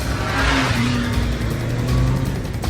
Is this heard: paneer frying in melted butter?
no